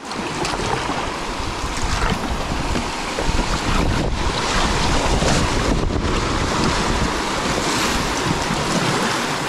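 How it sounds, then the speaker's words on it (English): Strong wind roaring over the Devils River during a kayaking trip, a loud, continuous buffeting rush that batters the microphone throughout, with faint water noise beneath. "As you can hear, this wind is just a beast."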